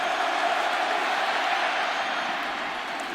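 Loud, steady roar of a college football stadium crowd at a Michigan versus Penn State game, a dense, unbroken wall of noise with faint whoops and no distinct pauses.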